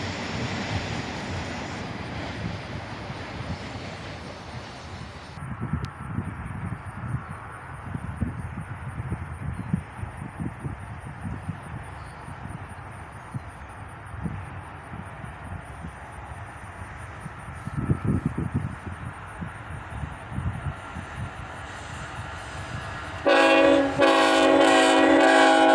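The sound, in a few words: CSX Autorack freight train passing with horn salute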